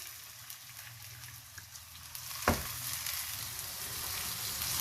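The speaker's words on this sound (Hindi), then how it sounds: "अब इसमें मैं कच्चे चावल हैं जो भीगे हुए हैं ये पहले डालूंगी।" Soaked raw rice tipped into a hot pan with garlic sets off a steady, close frying hiss, with a brief louder burst around the moment it lands, continuing without talk.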